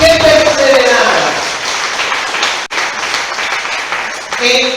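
A church congregation applauds during a Spanish-language service, a dense wash of clapping under loud voices and cheers that keeps going for about five seconds, with a brief drop near the middle.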